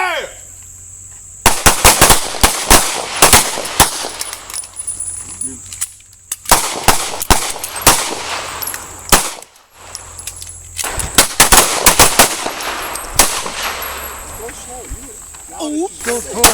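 Pistols fire at an outdoor self-defense shooting class: loud, sharp shots come in repeated rapid volleys of several at once, with short pauses between them and an instructor's voice calling out between volleys.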